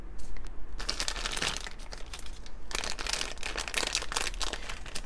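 Loud, close crinkling and crunching of plastic packaging as vintage 1990s McDonald's Halloween Happy Meal toys are unwrapped, in dense bursts of rustling with a brief pause midway.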